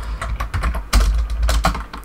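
Close, brisk typing on a computer keyboard in a Raspberry Pi terminal, a quick run of clattering keystrokes with one heavier key press near the middle, without any voices.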